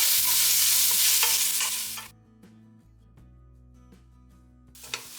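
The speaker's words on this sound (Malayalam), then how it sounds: "ഇതൊന്ന് മൂത്ത് വരുന്ന സമയത്ത് നമ്മൾ ഇതിലേക്ക് തക്കാളി ഇട്ട് കൊടുക്കുകയാണ്. 2 തക്കാളി. ഇനി ഇത് നല്ലപോലെ വാട്ടി കൊടുക്കണം." Tomatoes and onions fry and are stirred in a pan for a paneer biryani base, a loud broadband sizzle with scraping stirs for about two seconds before the frying drops to a quieter hiss under steady background tones.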